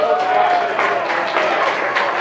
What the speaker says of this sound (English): So let's give a big round of applause to Home Team Grill.